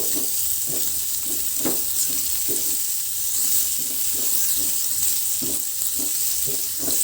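Onions frying in a pan for squid adobo give a steady close hiss and sizzle, with repeated soft scrape-and-stir taps from a utensil throughout.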